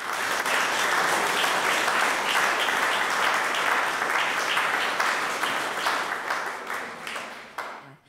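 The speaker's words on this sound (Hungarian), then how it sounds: "Egy nagy tapsot hadd kérjek így minden segítőnek." Sustained, vigorous audience applause for event helpers at a gallery event, steady for several seconds before tapering off and dying out at the end.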